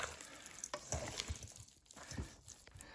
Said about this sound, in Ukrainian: Все це перемішуємо.